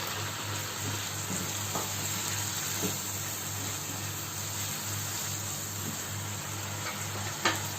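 Tomatoes sautéing in a pan for an orzo dish, a dense, steady sizzle with a low hum underneath and a few faint clicks of a utensil.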